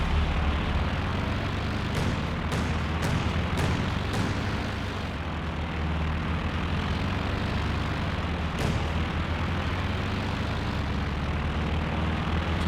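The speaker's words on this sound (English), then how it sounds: "So here we are testing out the new Bofors anti-aircraft capabilities." Bofors anti-aircraft gun in Company of Heroes 2 firing at planes, a few sharp shots spaced out early on over a steady loud drone of aircraft engines and battle noise, with another shot later.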